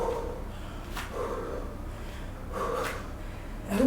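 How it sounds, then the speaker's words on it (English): Heavy breathing during a beginner workout routine: a steady cycle of breathy inhales and exhales with snort-like puffs, close and moderately loud under a noisy background. "You can see that I don't joke with my breathing. That's why you can hear my breath even as I'm speaking."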